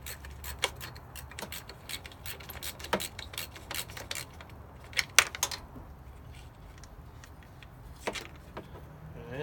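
A 10 mm ratchet clicks in short bursts while removing the top plastic cover of a 2009 Subaru Forester, with quick ticking runs and light rubbing scrapes, close and fairly quiet.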